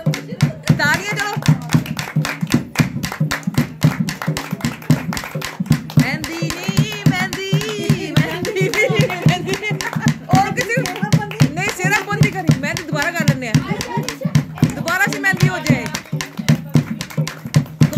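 Steady rhythmic hand clapping keeps time alongside a dholki drum at a mehndi night wedding celebration, with voices singing and talking over the beat throughout.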